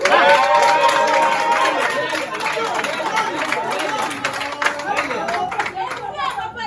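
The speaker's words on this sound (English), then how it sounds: "A resounding and a thunderous applause." Crowd applause and scattered cheering fill a political party press conference, dense clapping mixed with loud chatter and voices throughout.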